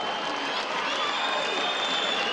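A boxing arena crowd in Liverpool makes a broad, sustained roar of cheering and murmur at moderate level, with no distinct voice standing out.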